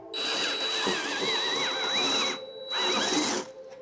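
A power drill whines loudly into metal in two bursts, drilling out a spinning rivet nut on a Nissan GT-R, its pitch wavering as the bit grinds, with a short pause between.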